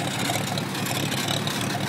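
A Farmall M tractor engine runs steadily while driving, a close, dense, even rumble that holds at one level throughout with no voices.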